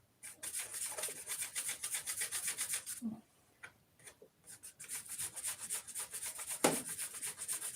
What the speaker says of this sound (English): Now I'm rubbing this flashing.